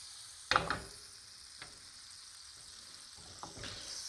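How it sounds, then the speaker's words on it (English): Ground beef frying in a pan, a soft steady sizzle with a few sharp clatters of stirring or utensil taps near the start and again toward the end. "while I cook this ground beef"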